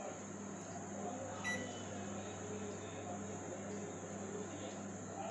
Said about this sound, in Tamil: ஓவன் ஆஃப் பண்ணிடலாம்.